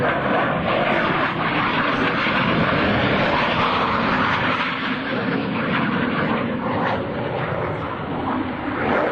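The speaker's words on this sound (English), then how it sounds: "Pulling through the inverted, he completes the split S on takeoff and will exit the flight line to the right." A US Navy Blue Angels jet roars loud and steady at a 2003 Dayton airshow as it pulls through a split S just after takeoff, a continuous broadband engine rush with no break.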